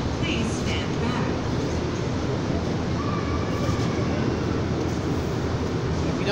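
A two-car DART light rail train rolls into a station with a loud, steady rumble and rush. A public-address voice sounds over the noise.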